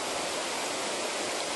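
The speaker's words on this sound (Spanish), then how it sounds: "Y distingue entre él el agua, el viento," Flowing water makes a continuous, even hiss like a stream or waterfall, steady and fairly close, with no voices.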